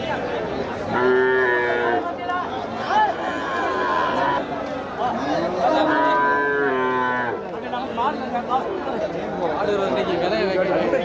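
Cattle moo loudly and repeatedly at the Melur cattle market, long lowing calls rising over the steady chatter of a crowd of traders and buyers talking nearby.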